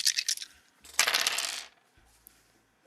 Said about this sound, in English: I'm going to roll the dice anyway because I have them out.